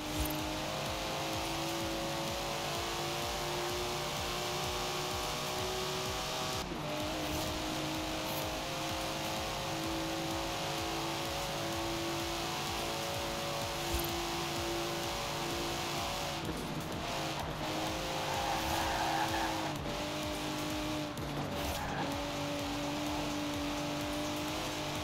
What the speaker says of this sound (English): Listen to that! Never heard the Datsun sound like that